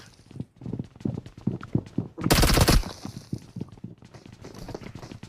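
Shotgun fire in the battle-royale game BGMI: one loud, dense blast in the middle, with repeated short impacts and steps before and after, heard under game action at close range.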